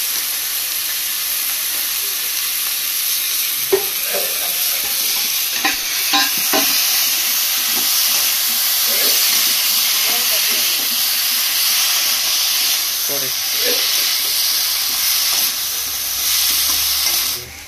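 Chicken feet cook in a pan over a low gas flame, a steady loud sizzle and hiss running throughout, with occasional stirring scrapes and clicks and no talking.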